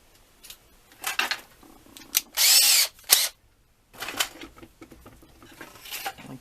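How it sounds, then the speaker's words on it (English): Short bursts of a small power drill whirring with a 1/16-inch bit, several spurts with pauses between them, close by, with light handling noises. "I'll take the 16th inch drill"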